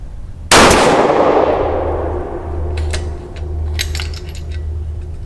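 A single rifle shot from an X-Caliber 6XC carbon-barrel build on a range, a sharp loud crack with a long decaying tail, followed by faint metallic clinks.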